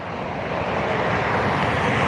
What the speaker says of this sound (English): UPS is coming from Louisville on a Boeing 757.